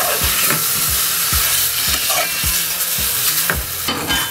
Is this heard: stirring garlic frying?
yes